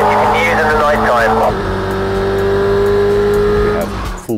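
A race car engine in the racing game Project CARS 2 revs and shifts hard up close, its loud, steady roar holding through most of the clip before easing off at the end.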